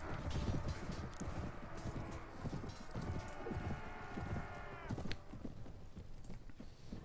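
Horse hooves pound in a steady galloping clip-clop in Mount & Blade: Warband, a dense rhythmic thudding that runs throughout, with a clank of gear along the way.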